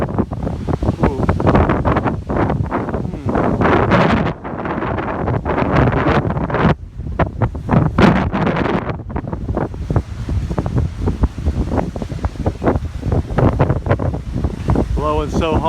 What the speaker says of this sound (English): we're a little bit worried because the wind is so high